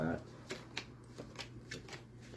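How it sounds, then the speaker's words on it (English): Tarot cards being shuffled by hand, a quick run of soft riffling flicks and papery taps at an uneven rhythm, close by, with a voice speaking briefly at the start. "I feel like suddenly I should stop shuffling."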